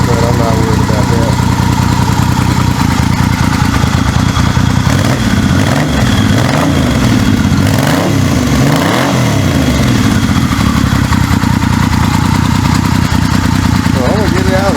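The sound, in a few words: 1979 Yamaha XS 850 motorcycle engine idling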